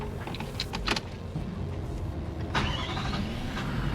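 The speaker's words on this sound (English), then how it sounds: "That's the sound of a V8." A V8 engine in a new tow vehicle cranks and catches at close range, with a clicking and jangling start followed by a steady idle rumble and a rising whine.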